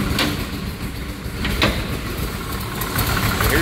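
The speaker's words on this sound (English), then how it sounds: "There's that 572 Chevy Crate engine." A 572 Chevy crate engine in a 1947 Chevrolet half-ton panel truck street rod runs steadily up close, a loud continuous low rumble with no talking.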